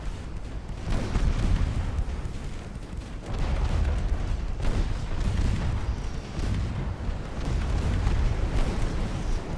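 A warship's ammunition cooks off in the naval strategy game Ultimate Admiral: Dreadnoughts, heavy, continuous booming rumbles rolling one into another with dense low-end roar and no talking.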